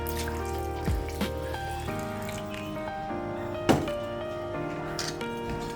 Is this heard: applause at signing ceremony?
no